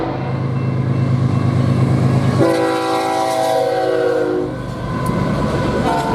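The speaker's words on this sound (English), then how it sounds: "I got my first train in Plata Missouri before I could even get out of the car." A BNSF freight train of empty well cars, running Chicago to Los Angeles on the Marceline Subdivision at La Plata, Missouri, rumbles past up close with a steady, loud roar, while a sustained multi-tone horn blast sounds for about two seconds midway.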